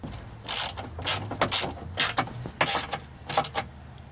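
Hand ratchet clicking in short bursts of rapid pawl ticks while tightening the hood latch bolts on a 2000 Dodge Dakota. Seven or eight quick spurts come close and crisp, separated by brief pauses, with no talking.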